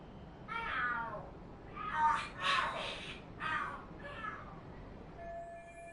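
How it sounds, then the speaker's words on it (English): Cats fighting in the video game Lost Judgment: a run of harsh, wailing screeches and yowls in several close, loud bursts, with brief pauses between them. "The hell? Are there cats fighting?"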